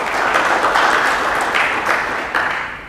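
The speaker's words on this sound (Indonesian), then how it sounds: "Kita beri sorak-sorai bagi Tuhan." A church congregation applauds and cheers in a steady, dense wash of clapping that fills the whole stretch and fades slightly at the end.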